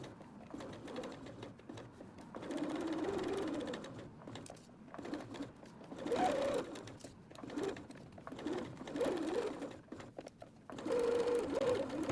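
A sewing machine stitching fabric moons for a mobile runs in several bursts of rapid mechanical whirring, pausing between seams, close up, with faint bird cooing in the background.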